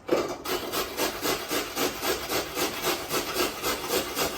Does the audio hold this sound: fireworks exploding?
no